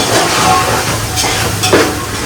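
Steady hissing sizzle of a spice tempering in hot oil in a pan, with a couple of brief louder crackles, close and fairly loud, no voices.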